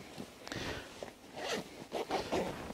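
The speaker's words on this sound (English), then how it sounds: "Really nice YKK zipper and a small flap here which prevents water in entering the zippered area." A YKK zipper on a 5.11 Tactical Rush 12 bag's admin compartment is pulled open in a few quick, raspy strokes, close up and fairly quiet, with no other sound around it.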